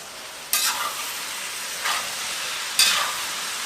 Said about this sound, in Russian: И теперь жарим с капустой.